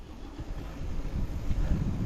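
Wind buffeting a microphone on a bike tour along the Infanta road in Real, Quezon, a steady low rumble that swells and gusts through the whole stretch with no talk.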